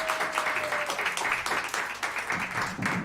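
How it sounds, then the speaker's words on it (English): An audience at a live folk music concert in Ann Arbor applauds the volunteer crew with steady, dense clapping that carries on throughout, with a faint voice at the start. "So let's hear a round of applause for our great crew of volunteers."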